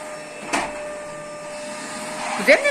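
Household vacuum cleaner running inside a home, a steady whining motor drone with a constant tonal hum throughout, interrupted by a couple of brief louder bumps, while people speak over it.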